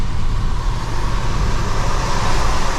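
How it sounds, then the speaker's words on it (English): Water spray thrown up by a truck's tyres on a wet road, heard as a loud, steady rushing hiss over low traffic rumble, continuous and close throughout. "I don't want the spray coming up, and you can hear it."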